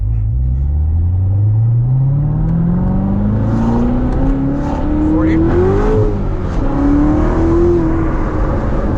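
A Chevrolet Corvette C7 Z06 accelerates hard from inside the car, its engine note climbing steadily and loud through a gear with a brief shift, the tires starting to spin under a constant heavy rumble.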